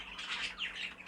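A hen in a bird shed gives a couple of close, harsh squawks in quick succession.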